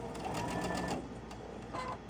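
A sewing machine stitches fabric in a steady, continuous whir, close and fairly loud, with a brief lull in the middle before the motor picks up again.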